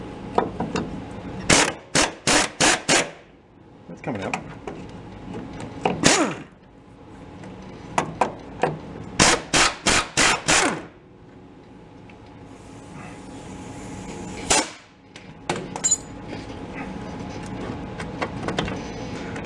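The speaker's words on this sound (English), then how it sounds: "How about throw a little bit of compressed air through an impact gun at it." A pneumatic impact gun on compressed air works seized bolts loose on a 1965 Ford Econoline, firing in several loud close rattling bursts separated by pauses, with a hissing air leak and workshop clunks between.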